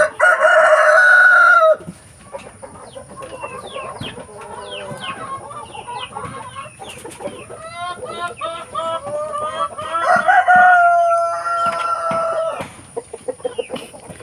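A rooster crows loudly and close, then a flock of hungry free-range chickens clucks and squawks busily, with another crow rising near the end.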